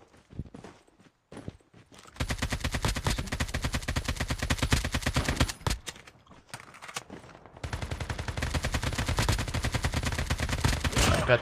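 Gunfire in the Call of Duty Mobile battle royale: after a quiet start, long loud bursts of rapid automatic fire, then a brief lull and another sustained volley, heard up close.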